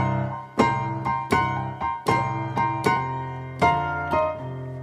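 Solo piano playing a crunchy blues scale lick, with bright struck notes and short slides repeating in a loose phrase of about half a dozen accented hits, close and clear with sustained ringing tones.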